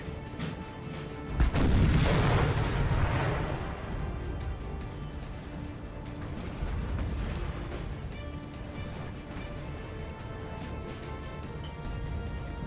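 Artillery fire in a Napoleonic-era Total War battle game: a single heavy boom lands early, then a continuous low rumble of distant cannon and battle noise rolls on behind it for the remaining seconds, with no voices.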